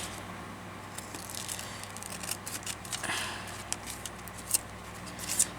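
Quiet, uneven snipping and rustling of paper being cut with sticky scissors for paper weaving, with a few sharper crisp snips near the end.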